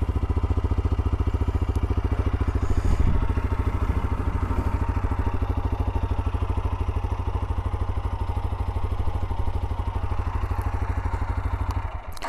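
A TVS Apache RTR 160 4V motorcycle engine idles steadily and close, a loud, even, throbbing drone that holds without a break for about twelve seconds.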